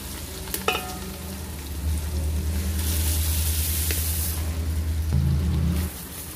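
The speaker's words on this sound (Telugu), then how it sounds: "ఒక అర కేజీ వరకు మనం మురుమురాలు వేసేసుకొని మొత్తం ఒకసారి కలిపేసుకొని" Half a kilo of puffed rice tossed into a pan with green chillies, salt and turmeric and stirred together, giving a steady rustling, scraping sizzle close by with a few sharp clinks.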